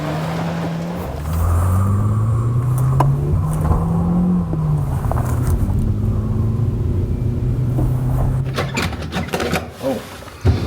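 A car driven in four-wheel drive, its engine revving and climbing in pitch with rising and falling whine, loud and close, with rumbling and clattering toward the end.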